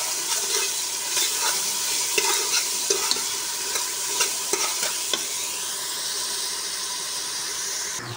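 Ingredients for sisig sauté in a pan, a bright, steady sizzle with a quick series of spatula clacks and scrapes, loud and close, then a louder hissing surge toward the end.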